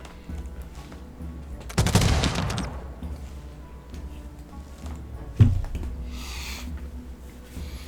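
Gunfire from a great swordsman unit in the strategy game Humankind: one broad burst of shots near the start and a second, sharper crack a few seconds later, both over a quiet game ambience.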